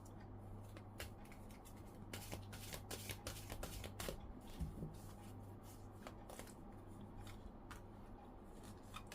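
Tarot cards being shuffled and handled at close range, giving a steady run of soft riffling flicks and slaps under a low background hum, with no talk.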